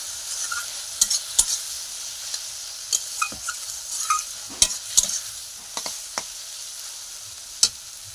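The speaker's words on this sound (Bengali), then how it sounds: "ভাজা হচ্ছে চাটনির জন্য।" Tomato chutney ingredients frying in a pan at home while being stirred, giving a steady close sizzle broken by sharp scrapes and clinks of the utensil at irregular intervals, with no talking.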